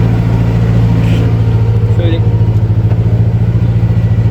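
A 5455 tractor engine with modified fuel pump settings labors while pulling a subsoiler, a loud, steady low rhythmic chug with pulsing throb close by, and a brief spoken word over it.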